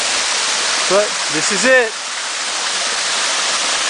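Berry Creek waterfall near Silver Falls and the Golden Cascades rushes as a steady, loud broadband roar throughout, with a man's brief words heard over the constant water.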